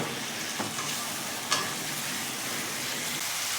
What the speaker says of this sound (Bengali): যে আলু আর ঝিঙেটা ভেজে রেখেছিলাম সেটা দিয়ে দিলাম দিয়ে মশলার সাথে এটাকে ভালো করে মিশিয়ে নেব